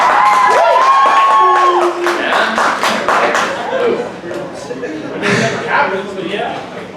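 Poetry slam audience in Dayton claps, cheers and laughs in lively bursts, with voices shouting over the noise and fading in and out across several seconds.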